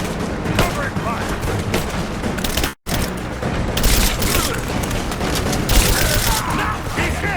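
Sustained covering gunfire in the video game Rise of the Tomb Raider, dense rapid bursts and booming shots firing continuously at close range, with a brief cut in the middle and voices shouting underneath.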